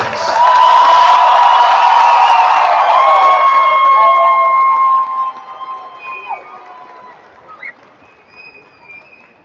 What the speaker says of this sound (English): let's give another round of applause now that they're out here to the class of 2026